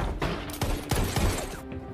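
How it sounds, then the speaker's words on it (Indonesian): A burst of gunfire during a shootout in an action film, several sharp shots cracking in quick succession over about two seconds, loud and close. "Melihat itu dengan cepat geng Coco menyerang hingga terjadilah baku tembak yang sengit"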